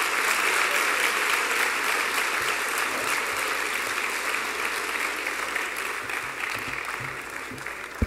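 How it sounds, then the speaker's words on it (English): An audience at a college Crown Forum applauds after a speech, a dense, loud wash of many hands clapping that holds steady and then slowly tapers toward the end. "Let's give him one more round of applause"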